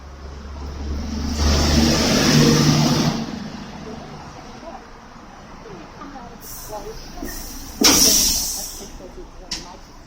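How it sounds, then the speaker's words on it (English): A utility vehicle passes nearby on a street, a broad swell of engine and tyre noise that builds and fades over a few seconds, followed later by a sharper, brief hiss-like rush. "Utility vehicle coming past"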